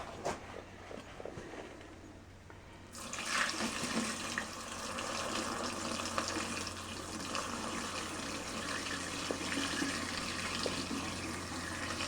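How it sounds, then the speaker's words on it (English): Gasoline pours from an old VW bus fuel tank into a container, a steady broadband liquid rush that begins abruptly about three seconds in and continues evenly, close by, with no talking. "get ready to pour this in a container"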